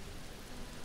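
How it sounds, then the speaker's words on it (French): Steady rain in the video game Mr. Prepper: a constant dense hiss of falling drops, moderately loud and unbroken over a short stretch. "Oh, il pleut, dépêche-toi, dépêche-toi."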